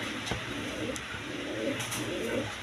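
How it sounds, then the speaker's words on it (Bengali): White Danish pigeons, a pair, give low faint coos in a steady murmur nearby, with a few small clicks or taps and no voices. "এখানে এক পেয়ার ডেনিস কবুতর আছে হোয়াইট ডেনিস"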